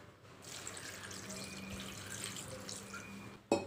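Water poured into a pressure cooker holding jackfruit pieces, a steady splashing stream running for several seconds at close range, ending with a brief clunk.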